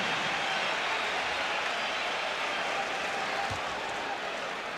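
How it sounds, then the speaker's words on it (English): Sarcastic crowd applause ripples through an arena during a 1989 Bulls vs Pistons playoff basketball game, a steady, fairly distant wash of clapping and crowd noise with no distinct voices on top. "And some sarcasm in the applause."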